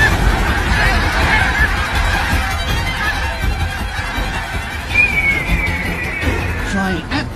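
A flock of geese honks loudly and continuously in the wild, panicked calls layered over rushing wind and noise as golden eagles attack them on steep mountain slopes.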